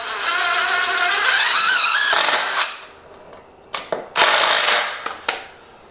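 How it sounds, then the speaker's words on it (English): Screw being driven to secure a wooden shelf support with a cordless drill, a loud whirring rise lasting about two seconds, then a few shorter bursts and sharp clicks as the screw seats, up close. "I will secure it to the back with just a screw"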